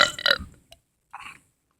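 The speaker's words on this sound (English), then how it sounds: "This is how I burp." A close burp after drinking soda, a short rough belch with a brief click, then a smaller, fainter burp a moment later, heard alone in a quiet setting.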